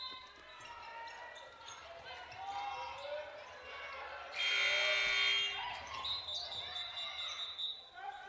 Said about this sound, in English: now we get an inadvertent buzzer